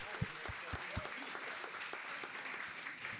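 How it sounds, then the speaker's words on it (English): A Fuckup Nights Toronto audience claps for Arnie's birthday, with steady, dense applause at moderate volume and a few sharper, closer claps standing out near the start. "we got to give him a round of applause for his birthday"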